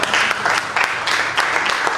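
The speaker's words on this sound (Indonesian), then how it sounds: "Berikan tepuk tangan bagi Tuhan." Church congregation clapping for God during a sermon, a steady dense wash of many hands with slight surges in intensity, fairly close and continuous, with no voices above it.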